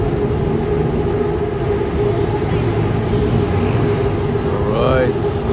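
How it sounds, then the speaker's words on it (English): A train rolls past continuously in an upscale district of Bangkok, Thailand, its loud steady rumble mixed with brief metallic wheel squeals near the end, heard amid city traffic. "Look at the train."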